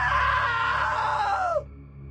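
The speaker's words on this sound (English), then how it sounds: "Now that was a great scream." A single long, loud scream, held and then falling in pitch, from the video game What Remains of Edith Finch, cut off sharply and followed by a low background hum.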